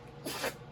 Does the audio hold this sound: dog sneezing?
yes